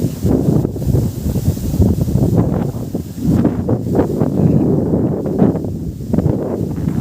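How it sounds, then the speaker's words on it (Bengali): Strong gusty storm wind in a Sundarbans village during the rainy season buffets the microphone in a continuous roar, with rustling and uneven surges throughout. "অসাধারণ বাতাস বইছে অসাধারণ মানে একেবারে ঝড়ো বাতাস"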